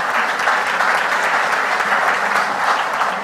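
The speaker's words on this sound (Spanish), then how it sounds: "Aplausos para él." An audience at a finance conference panel gives sustained, even applause, dense clapping close and moderately loud throughout.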